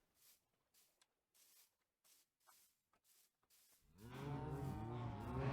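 Cows on a large Minecraft cow farm moo in a loud, overlapping chorus that swells in near the end, preceded by quieter scattered shuffling sounds.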